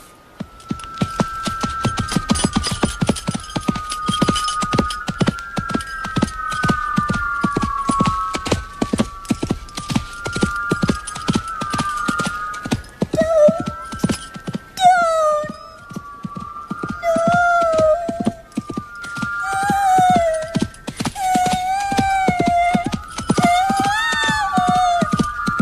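A horse's hooves clip-clop in a steady, brisk rhythm that keeps going throughout, close and prominent, with sustained tonal notes and whistling sounds running alongside.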